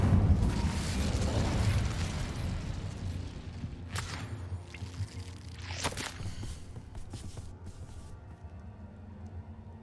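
The Incendio fire spell is cast in Hogwarts Legacy: a low, rumbling roar of flame fades in the background, with a couple of sharp bursts and whooshes breaking through, and no voices are heard.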